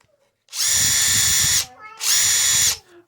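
A Ridgid subcompact cordless drill spins up in two loud, close bursts, each about a second long, with a steady high whine and a brief pause between them.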